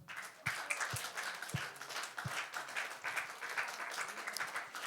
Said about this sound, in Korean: 우리 엘리사에게 박수 한번 해줍시다.